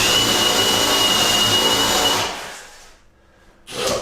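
Power drill boring through a hardwood door to fit a rim lock, a steady loud whine for about two seconds that trails off to near silence, then briefly restarts.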